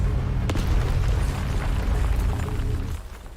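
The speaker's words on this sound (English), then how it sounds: "Big explosion." A big explosion in the video game Mass Effect Legendary Edition gives a deep, loud booming rumble that sustains for a few seconds and then tapers off. A sharp crack comes early on, and no voices are heard over it.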